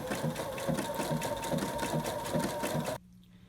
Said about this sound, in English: get used to where that needle is coming down and the pattern that it makes, then you can go a little bit faster